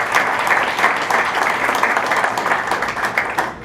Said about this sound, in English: So I'd like to give a round of applause to all of you, the Kiwanis.